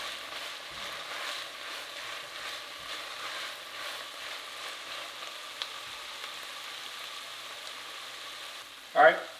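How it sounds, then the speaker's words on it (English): Onions, carrots and celery sauté on high heat for a creamy chicken egg noodle soup, making a steady, even sizzle throughout, with a short sharp clatter of a utensil right at the end. "We're just sweating up our vegetables, we're sauteing them on a high heat"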